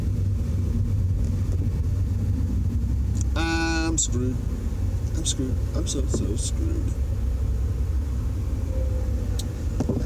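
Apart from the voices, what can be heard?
car driving slowly in freeway traffic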